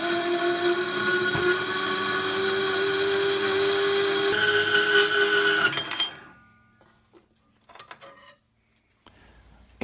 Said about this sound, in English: that'll make it a little bit easier on the end mill because we are machining steel after all